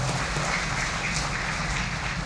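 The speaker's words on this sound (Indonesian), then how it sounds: "Tepuk tangan dong untuk kita semua." A church congregation claps together at a Sunday service, a steady, dense wash of applause that holds at an even level for the whole moment with no voices over it.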